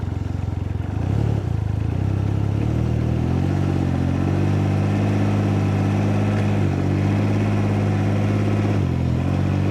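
Can-Am Ryker Sport engine idling and pulling steadily as the trike creeps inch by inch up car ramps, a loud, close, continuous low drone with slight rises in revs.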